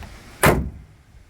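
A GMC Sierra pickup truck's hood slams shut once, a single sharp, close thud that dies away quickly in a quiet space.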